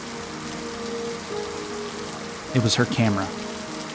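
Steady rain falls as a constant broadband hiss, with a voice speaking briefly over it near the end.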